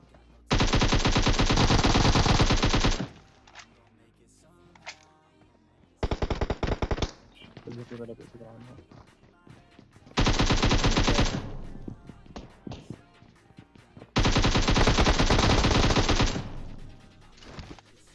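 Loud bursts of automatic gunfire in PUBG Mobile, three long sustained volleys of rapid shots with scattered single shots and game noise in the gaps, no talking.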